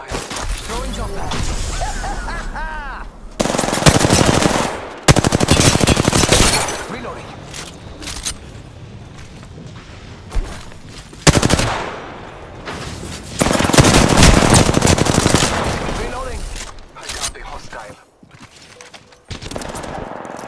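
Gunfire in Apex Legends: long dense bursts of automatic fire with shattering impacts, alternating with quieter stretches, loud and close, with voices mixed in.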